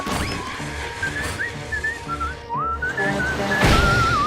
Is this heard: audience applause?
no